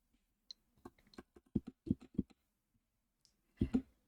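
Someone types a command on a computer keyboard in a quiet room, leaving a sparse run of close, distinct key clicks with a short pause before a final pair of presses.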